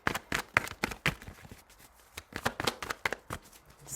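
Tarot cards are shuffled and pulled, with quick, close, papery riffles and snaps that come in a busy, uneven rhythm, alone and fairly soft.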